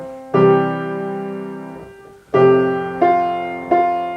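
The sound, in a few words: A minor chord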